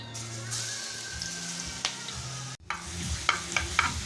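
Ginger, garlic and curry leaves sauté in oil with a steady sizzle, broken by a brief gap and then stirring clinks and scrapes against the pan, close up.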